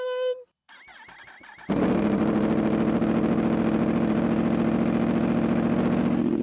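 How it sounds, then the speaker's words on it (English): A Yamaha R1 sport bike fires up on its first cold start: a brief starter whir and cranking, then the engine catches and settles into a loud, steady, rough idle close by. "First cold start on the R1."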